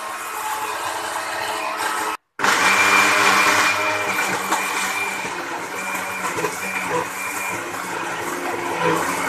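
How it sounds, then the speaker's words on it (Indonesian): Electric blender grinding spice ingredients, kencur among them, for grilled toman fish, a steady close-up whirring motor drone with a rattling edge that cuts out briefly and resumes without speech. "Bahan-bahan tadi kita blender semua sampai kencur."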